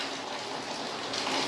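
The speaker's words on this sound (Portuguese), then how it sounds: "tá chovendo bastante aqui. E aqui ainda tem um toldo, faz um barulho danado aqui" Heavy rain drumming on an awning, a dense continuous hiss of falling water heard close and steady for a brief moment, with no voices.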